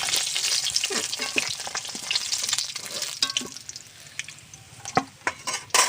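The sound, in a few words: eggs frying and being stirred in oil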